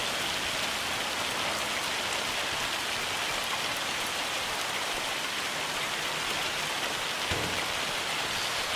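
Steady, dense rain in the Farming Simulator 25 game, a constant hiss of drops pattering on surfaces at an even level, with no talking.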